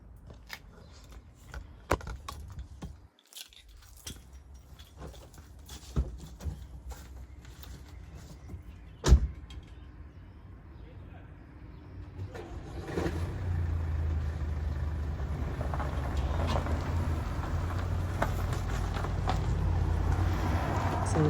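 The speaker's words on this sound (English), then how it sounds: "Let me move the car." A car being moved beside a garden: scattered clicks and knocks at first, then a low engine rumble that builds and holds steady through the second half, moderately close.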